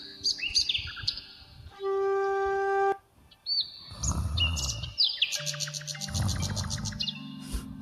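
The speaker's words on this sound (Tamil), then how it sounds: "என்ன குருவி சவுண்டு கேட்குது?" Sparrows chirp in the morning in quick, bright bursts of tweets that come and go, mixed with other short tones and thuds in a comedy skit scene.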